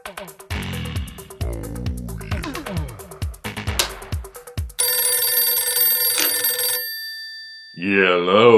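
A rotary-era telephone bell rings loudly in a steady trill for a few seconds, with dialogue and music before it and a voice answering just after.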